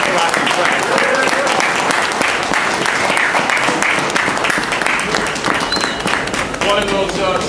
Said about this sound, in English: So let's give a great round of applause for Keith Rocky Pratt.